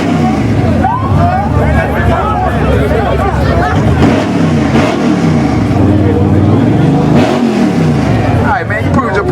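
A custom car's engine revs loudly at a car and truck show, rising and falling repeatedly at close range over a crowd's babble and nearby voices.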